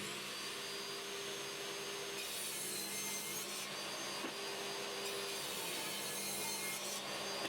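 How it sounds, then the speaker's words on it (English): Table saw ripping the edges of glued-up wood with a dust extractor running, a steady loud whine and rasp that rises in intensity mid-cut and continues without pause. "I then ripped the edges clean at the table saw again"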